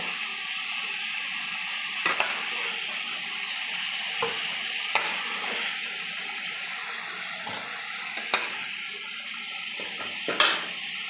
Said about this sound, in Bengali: আমি ওই তেলেই 2 শুকনো লঙ্কা, এলাচ, দারচিনি, লং ভেজে নেব।